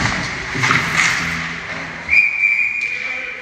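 At an ice hockey game between the Leduc Riggers and Edmonton Royals, a referee's whistle gives a few brief shrill chirps, then one sustained blast over the arena's crowd noise.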